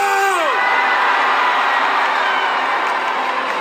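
Large political rally crowd in Korea roaring a sustained collective cheer after a call from the stage, dense and loud throughout, with a brief voice tone fading at the start.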